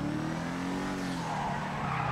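Big tuned Revolter sports car in GTA V Online sliding through a turn, tires squealing in a long loud screech over a steady engine drone, with no talk.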